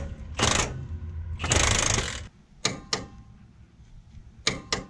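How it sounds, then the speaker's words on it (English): A torque wrench clicks while tightening upper control arm bolts to 120 foot-pounds on a truck axle under load, with two long ratcheting bursts followed by several sharp, close clicks. "With that click, our uppers are tightened and torqued, which are actually torqued to 120 foot-pounds."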